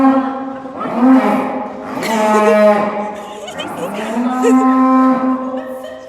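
Dairy cows lying in shaded sand moo several times in long, loud, drawn-out calls, one after another, close to the listener.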